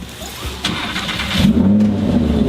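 A car engine cranks and catches, then settles into a loud, close running drone that swells as it is revved, with no talking over it.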